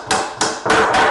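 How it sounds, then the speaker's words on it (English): A waffle head hammer drives a nail back out of a wooden pallet with four sharp, ringing blows, the first two spaced apart and the last two closer together, each hit close and loud. "that waffle head hammer really steers that nail tip"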